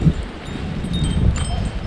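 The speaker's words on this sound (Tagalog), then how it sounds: "medyo mahangin siya ngayon" Wind blowing outdoors during a Canadian snowstorm, a steady low rumble with gusty buffeting against the microphone and faint rustling, continuous throughout.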